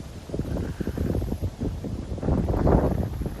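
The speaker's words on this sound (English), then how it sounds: "Wow, this wind's picking up even more." Wind blowing across an old Baptist cemetery, a steady rushing roar buffeting the microphone and swelling louder toward the end, with no talk.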